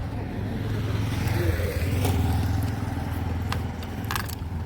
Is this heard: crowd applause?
no